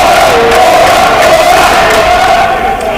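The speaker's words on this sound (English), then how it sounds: "Knips is getting the business from the Warrior crowd" A home crowd at a women's college basketball game against Dominican jeers a visiting player at the free-throw line, a loud, continuous roar of many voices with no pause.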